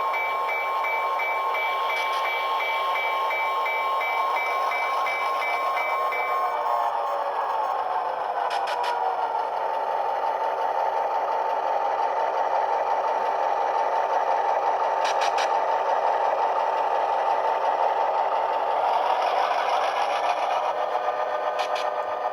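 An HO-scale brass MKT/Frisco "Texas Special" model locomotive with DCC sound pulls away, its steady electronic engine drone and rail clatter running continuously and fairly loud, with a few sharp high ticks scattered through and no voices.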